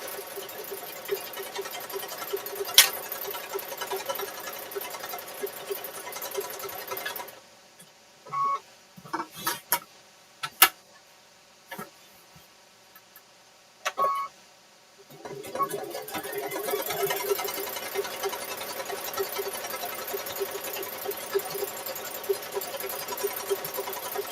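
Sewing machine stitching the binding onto a Christmas quilt, a steady close mechanical whir that stops for several seconds, broken by scattered clicks and taps, then starts running again.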